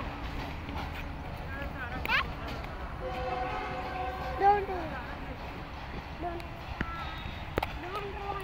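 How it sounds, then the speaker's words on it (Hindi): Pakistan Railway's premium 5 Up Green Line Express, a non-stop train, rumbles past with rattling cars and sounds a couple of horn blasts, heard from trackside over steady background noise. "तो दोस्तों ये गई है पाकिस्तान रेलवे की प्रीमियम ट्रेन यानी five up green line express."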